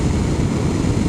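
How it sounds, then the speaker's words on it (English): Standard exhaust on a BMW S1000XR motorcycle, a loud, steady engine roar at speed that holds without break, dense and full in the low end. "The standard exhaust just sounds great, looks not so great but sounds great"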